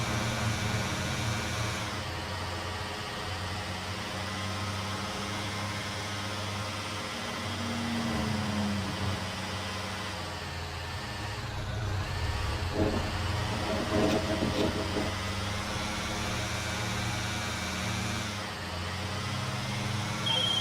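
A car engine hums steadily while driving in the GTA 5 video game, a continuous low drone that holds throughout with slight swells and a brief burst of clatter midway.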